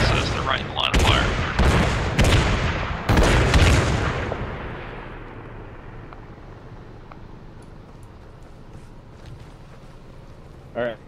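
Artillery rounds fire in ArmA 3 in a string of loud, sharp booms over the first four seconds. The booms then fade into a long, dull rumbling tail with a faint distant thud at the end.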